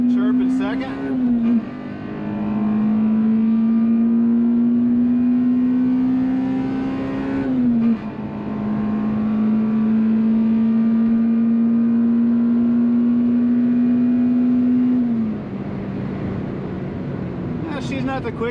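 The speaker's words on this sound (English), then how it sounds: "it's definitely fun hearing the engine just roaring" Acura RSX Type S with a K20Z1 four-cylinder engine revving hard in first and second gear, a loud sustained drone climbing steadily in pitch, dipping briefly at a gear change, then holding high before easing off, heard from inside the car.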